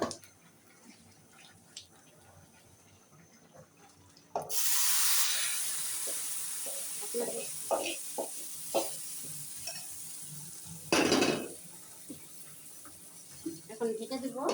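Hot cumin tempering poured into cooking vegetables gives a sudden loud hiss that settles into a steady sizzle, then a second sharp burst of spitting later, with scattered clinks and a voice speaking.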